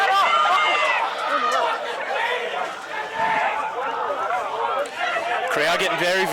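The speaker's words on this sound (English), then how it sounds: "Crowd getting very vocal here" A rugby league crowd at a first grade match roars steadily, packed and continuous, while a commentator talks over the noise throughout.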